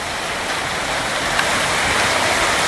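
Storm floodwater rushes through a flooded stretch of the Mohawk River, a steady, dense roar of flowing water with no break and no voices.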